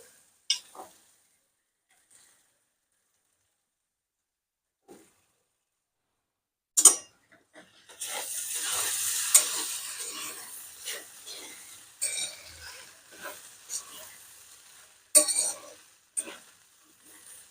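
Poha tossed and stir-fried in a pan over full gas crackles in a soft, steady sizzle, punctuated by sharp scrapes and clinks of a spoon against the pan after a few quiet, isolated taps.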